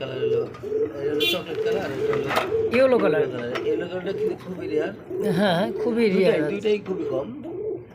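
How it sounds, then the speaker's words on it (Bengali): Several American fantail pigeons, one of them yellow, coo softly in a loft under steady close conversation, the low rolling coos recurring throughout. "দর্শক বন্ধুরা দেখতে পাচ্ছেন ইয়েলো কালার একটা ফ্যান্ডেল কবুতর"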